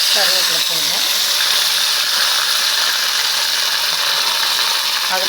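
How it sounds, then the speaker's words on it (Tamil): Mustard seeds splutter in hot oil as potato chutney is started, giving a dense, even crackle and sizzle close by, with a brief voice at the start. "கடுகு பொரியட்டும்."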